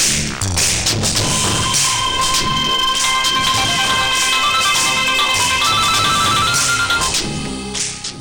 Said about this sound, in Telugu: జలజ, ముందు చంటికి ఫోన్ చేయి.